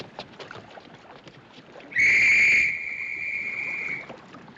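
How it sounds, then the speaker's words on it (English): A shrill, steady ship officer's whistle blast sounds abruptly over faint outdoor background noise, holding for about two seconds before fading slightly and stopping. "That's an officer's whistle."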